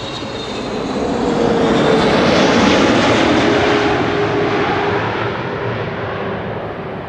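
A KLM Boeing 777-300 jet arriving at Amsterdam Schiphol roars overhead, loud and close, its engine noise swelling to a peak and then easing off slowly as it passes, with no talk over it.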